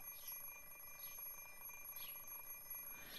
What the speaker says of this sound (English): I stopped the alarm clock with a sigh